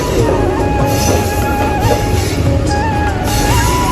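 A passenger train running along the railway line from Faridpur to Kalukhali in Bangladesh, a loud, steady rumble and rattle of wheels and carriages close by, filling the whole stretch without a break.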